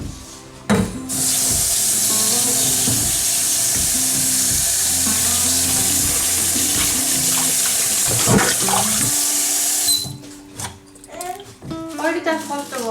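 Running tap water pours steadily into a sink while broccoli is washed for homemade baby food, a loud continuous splashing rush that stops abruptly near the end, followed by a few kitchen clatters.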